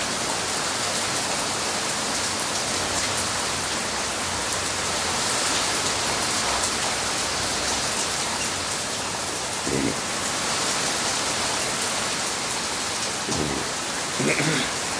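Heavy rain from a strong thunderstorm over central Oklahoma hisses down as a steady, dense roar, close and unbroken, with only faint low thumps beneath it and no clear talk.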